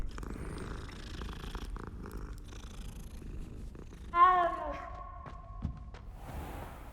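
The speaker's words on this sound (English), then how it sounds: "Gotta pet the cat." A cat purring while being petted in the Hogwarts Legacy video game, a soft low rumbling purr with a brief sighing chirp midway, quiet and close.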